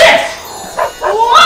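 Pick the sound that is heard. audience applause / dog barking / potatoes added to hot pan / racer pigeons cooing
dog barking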